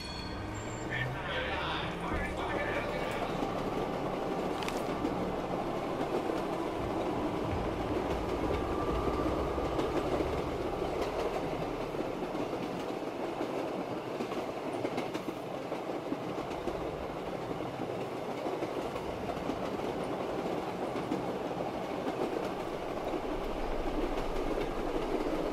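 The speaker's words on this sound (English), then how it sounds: "I ride this train every damn day." A train ride in Black Ops III: Shadows of Evil, with a continuous loud rumble and clatter of rail cars rolling along the track, steady and close while a voice speaks over it.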